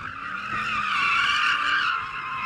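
BMW M8 Gran Coupe front tyre squealing during a hard drag race launch, a loud sustained high screech that holds steadily for a couple of seconds.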